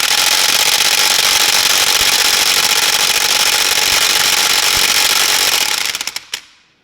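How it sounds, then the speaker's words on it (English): An impact wrench hammers out wheel bolts on a Nissan 240SX with an RB engine swap, a loud, steady, close-up rattling whir that runs for about six seconds, then cuts off with a few short trailing bursts. "we'll go ahead and take out these 4 bolts. They are on there, so you gotta get yourself an impact or something."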